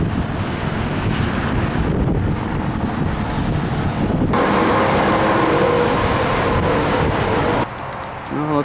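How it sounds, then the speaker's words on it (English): Strong, steady wind roars across the microphone on a hiking trail in the Laurel Highlands, a broad continuous rush with gusty swells and buffeting from start to finish, easing slightly near the end. "Oh, and it's nice and windy up here,"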